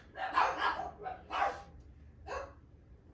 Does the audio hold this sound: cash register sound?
no